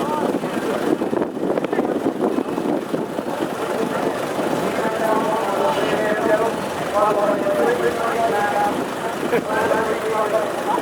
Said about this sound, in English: Engines all fired up.